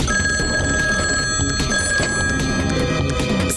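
A telephone rings on an outgoing call in a cartoon comedy, a steady electronic ring tone sounding continuously and fairly close over a busy background hum, with no talking.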